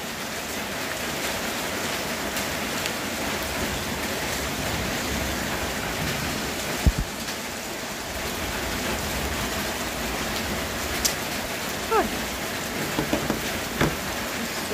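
Steady, heavy rain pours down in a dense, continuous hiss, with a few faint drips and knocks standing out near the end.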